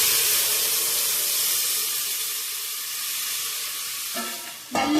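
Hot liquid poured for kinnathappam gives a steady, loud sizzling hiss that runs continuously, ending with a brief clatter near the close; no voices.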